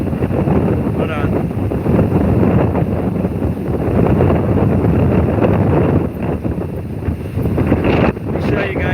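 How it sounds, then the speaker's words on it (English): Strong wind roars steadily across the microphone on the coast at Infanta, Philippines, a loud continuous buffeting rumble with gusts that dip briefly near the end. "So it's going to be a little windy"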